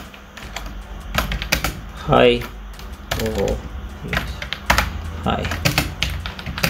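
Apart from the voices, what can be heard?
typing on a computer keyboard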